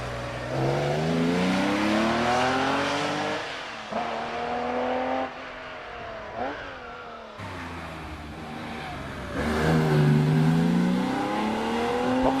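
A 3.2 litre Porsche Boxster climbs a hillclimb course, its engine revving hard through several gear changes with rising and falling pitch. The sound is moderately loud and stays at a steady distance, with no voices.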